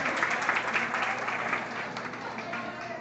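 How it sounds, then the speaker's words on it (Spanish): Applause from an audience of women at a Christmas gathering of a women's friendship group, a dense, steady wash of many hands clapping close by, continuous throughout, with a faint voice under it. "¡Un aplauso para ustedes mismas, por favor!"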